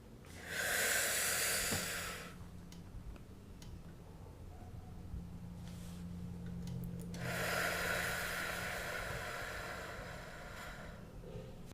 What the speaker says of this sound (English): Do you want to try the breathing thing?